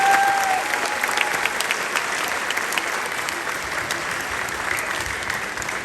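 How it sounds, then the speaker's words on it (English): An audience at a middle school spring band concert gives the band a full round of applause, loudest at the start and then settling into sustained, even clapping with a faint whistle early on. "So can we get the entire band just another round of applause?"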